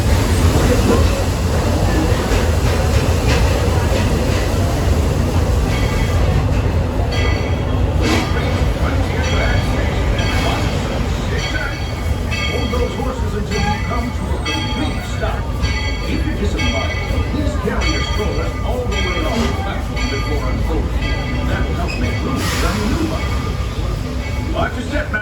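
A Walt Disney World Railroad train at Magic Kingdom rolls steadily toward Frontierland Station, its continuous rumble and clatter loud throughout, with an announcer's voice heard over the noise.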